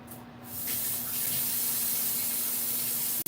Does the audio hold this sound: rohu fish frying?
no